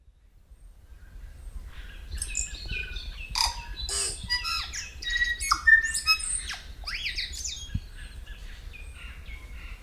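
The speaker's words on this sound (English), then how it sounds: "It's called a tui." A tui, a New Zealand songbird, sings a varied run of chirps, clicks and squawky whistled notes, fairly close and clear, with bursts coming in quick clusters over a quiet background.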